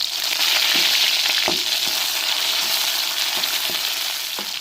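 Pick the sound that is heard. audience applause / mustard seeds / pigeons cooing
mustard seeds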